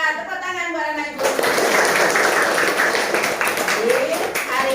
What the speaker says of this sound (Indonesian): Iya, tepuk tangan buat anak ibu.